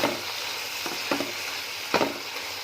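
Beef keema with chili powder and dried fenugreek sizzles steadily in a pan while a spoon stirs it, giving a few sharp scraping strokes over the constant frying hiss; no one speaks.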